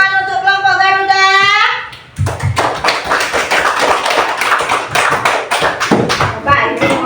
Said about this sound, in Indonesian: beri tepuk tangan untuk kelompok Garuda